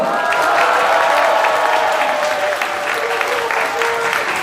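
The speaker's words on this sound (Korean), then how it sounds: "김종수 의원님 박수 한번 주세요." Audience applause for an assemblyman at a political campaign event, dense and steady clapping from a crowd with a few faint cheers, loud and sustained throughout.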